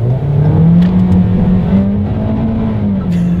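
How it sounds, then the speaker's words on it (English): A 2020 Toyota Corolla with a CVT accelerates hard in sport mode on a wet road, its engine drone rising steadily and holding a sustained, fairly loud whine inside the cabin with no talking. "let's do a quick little acceleration test"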